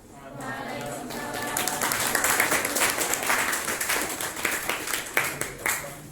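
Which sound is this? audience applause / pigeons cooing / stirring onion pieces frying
audience applause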